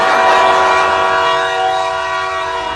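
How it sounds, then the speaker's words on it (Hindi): A cartoon train sounds a loud, sustained whistle with steady tonal bands, holding strong for nearly three seconds and fading slightly toward the end, with no talk over it. "ट्रेन ने सीटी बजा दिया"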